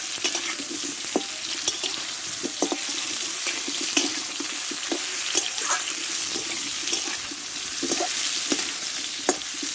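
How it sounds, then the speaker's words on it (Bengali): Water-soaked raw mango slices poured into a hot pan of frying pickle base, setting off a loud, continuous wet sizzle with scattered splashes and crackles, close and without talk. "জল ধরানো আমটা আমি একটু ঢেলে দেবো"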